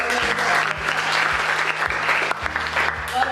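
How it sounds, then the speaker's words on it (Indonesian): A classroom group gives a short round of steady applause for a correct answer on an automotive engineering exam, clapping fairly loud and close throughout. "Ya, kita kasih aplaus dulu jawabannya."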